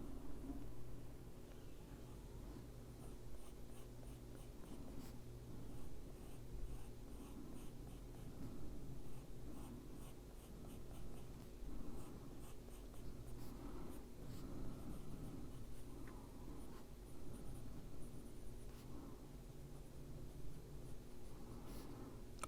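A brown colored pencil scratches softly on paper in steady, light strokes, a faint continuous scratching over low background hum with no speech.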